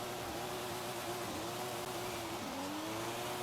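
A 900-horsepower widebody Toyota Supra drifting in Forza Horizon 5, a steady, sustained engine drone that shifts pitch slightly as it holds a slide, faint and continuous with no voices.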